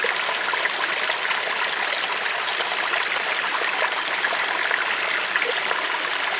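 Water flows steadily in a stream, a dense, even rushing and trickling sound that stays close and constant throughout, with no voices.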